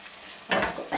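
Cooked peas stirred with garam masala powder in a pan for paneer bhurji, a soft sizzle that swells into a brief burst of scraping spoon movement, no talk.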